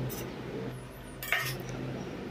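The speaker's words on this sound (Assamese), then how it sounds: "এতিয়া সুন্দৰকৈ বাচন এটাত উলিয়াই লওঁ।" Cooked taro curry is served into a dish with metal utensils, giving a few quiet clinks and scrapes of spoon against pot in an otherwise hushed kitchen.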